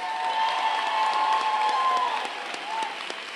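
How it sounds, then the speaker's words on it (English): An audience at a book launch claps in sustained, dense applause, fairly close and steady, easing slightly toward the end. "Let's give them a round of applause."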